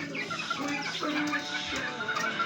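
A small flock of RKG Poncan chickens clucks and chatters nearby, overlapping calls filling a short stretch.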